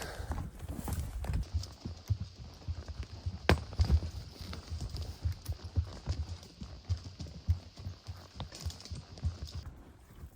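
Horses walk on a ridge-line trail during a summer pack trip, their hooves clip-clopping in a steady uneven rhythm at moderate distance, with faint rustling around them.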